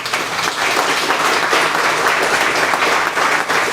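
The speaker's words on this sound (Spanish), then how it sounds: "Les pido un aplauso." Audience applauding at a book presentation in El Oro, Ecuador, a loud, full and continuous wash of clapping from many people, steady from start to finish.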